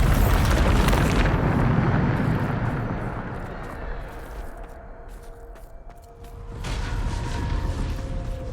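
Bombarda spell blast in the Hogwarts Legacy video game: a loud deep boom up front, rumbling debris that dies away, then a second swell of crumbling noise with faint ringing tones.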